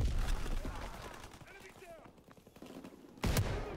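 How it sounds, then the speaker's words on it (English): Call of Duty: WW2 gunfire rattles in rapid bursts throughout, moderately loud, with a sharp louder shot near the end and a player's voice talking over the action. "And I got shot in the back."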